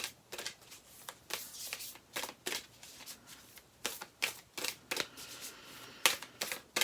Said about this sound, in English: This one feels enormous in my hands and it's just clunky to shuffle them.